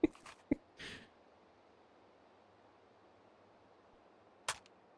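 Gunshots in the VR shooting game H3VR, fired until the magazine runs dry: a few sharp, isolated cracks near the start, then a long quiet stretch of low hiss before one last shot.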